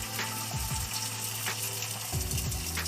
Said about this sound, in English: Oh, you can hear that sizzling.